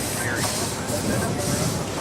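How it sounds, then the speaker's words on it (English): A 1909 Case 20-horsepower steam tractor slows to a stop, its loud, steady hissing and rumbling rush filling the whole stretch with little change, and a voice speaks faintly underneath. "The brake flywheel, slow it down, just stop it."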